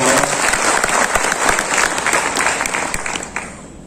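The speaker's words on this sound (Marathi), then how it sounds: "त्यांच्यासाठी जोरदार टाळ्या" Loud, sustained audience applause fills a hall at a political election gathering, dense clapping holding steady for several seconds before tapering slightly near the end.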